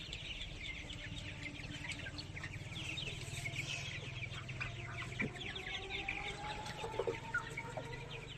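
A flock of 25-day-old tiger chickens roaming on a rooftop clucks and chirps steadily at close range, with repeated short calls over a constant low background hum.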